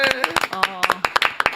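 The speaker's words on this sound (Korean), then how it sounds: "이현주 의원 박수로 맞아." Scattered hand claps from a small talk-show studio group greet lawmaker Lee Hyun-ju, sharp and close, mixed in with ongoing conversation.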